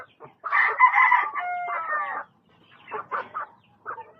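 Rooster crows in a long, loud call with a sustained tonal tail at a small backyard poultry farm, followed by several shorter clucks and cackles from nearby chickens; no one speaks.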